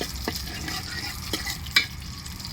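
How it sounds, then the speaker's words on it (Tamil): Vadagam seasoning frying in a pan for fish curry, stirred with a utensil; a soft steady sizzle runs throughout, broken by a few light scraping clicks, moderately close and without speech. "வடவத்தை வந்து நல்லா மிக்ஸ் பண்ணி விட்டுக்கலாம்"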